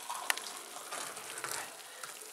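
Water pours from a kettle and spills, splashing onto a surface with a steady, hissing trickle and a few sharp drips, close by and alone.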